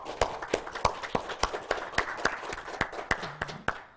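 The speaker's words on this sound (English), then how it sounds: "give a big applause to Professor Niral." A conference audience, heard over a live-streamed seminar, gives sparse, evenly spaced claps, roughly three per second, sharp and distinct rather than a dense ovation.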